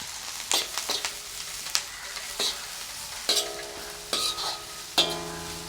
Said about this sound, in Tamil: பாருங்க வெங்காயம் இந்த மாதிரி வதங்கின பிறகு நாங்கள் லீக்ஸ் போட்டுக்கொள்வோம்.